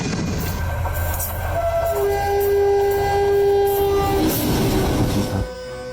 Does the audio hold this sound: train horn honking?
yes